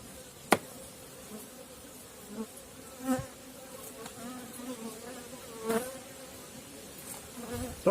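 Honeybees hum steadily at an open hive during a late-September inspection, with a dense, continuous near buzz. Single bees fly close past at moments and briefly swell the sound.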